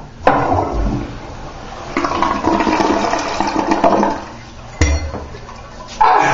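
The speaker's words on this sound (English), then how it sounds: "Here we go with the flush." A toilet flushes down a load of Cracker Jacks and fries, a loud rushing swirl of water that surges, eases, then gurgles again in bursts, with a few clinks and some talk nearby.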